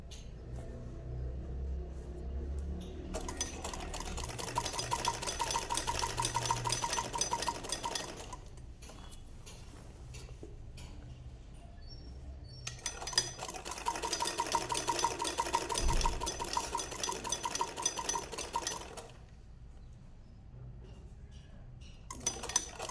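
A sewing machine stitches a sleeve during a tailoring lesson, running in two long buzzing bursts with quieter handling sounds and clatter between them.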